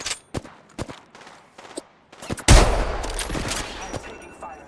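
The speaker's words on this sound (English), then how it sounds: "I'm taking fire." Automatic gunfire in the Apex Legends video game erupts after a few scattered clicks and short bursts, a loud sustained volley following close-range shots, with brief voice lines heard earlier.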